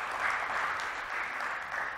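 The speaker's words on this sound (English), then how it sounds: "Yeah, yeah, round of applause" Quiet, steady applause from a seminar crowd at a trading event, heard at a distance and fairly faint for a couple of seconds.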